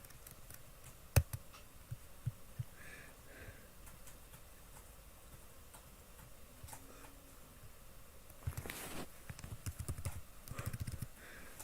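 Keys on a computer keyboard tap in short, irregular bursts while someone types in an IRC chat, faint and close against a quiet room hum, with a few louder clicks scattered through.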